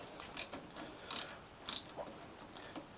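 Ratchet clicking away as it loosens small 8mm bolts on a Suzuki GSX-S 1000F motorcycle, several short bursts of close, quiet clicks spread across a few seconds.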